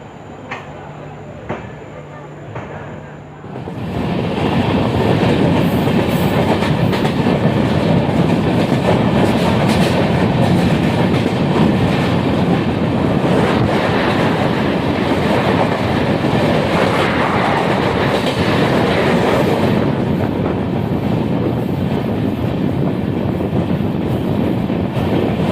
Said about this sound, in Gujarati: બાંદ્રા ટર્મિનસથી હવે આપણી ટ્રેન નીકળી ગઈ છે ભાઈ, ઓન ટાઈમ ચાલે છે.